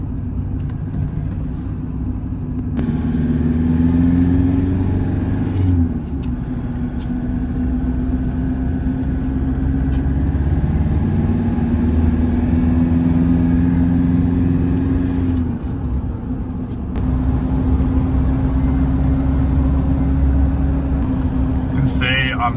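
A Toyota Hilux engine rolls along steadily while coasting downhill off the throttle, a low continuous drone with a faint mid-pitched tone, loud and close throughout, with someone talking over it at times.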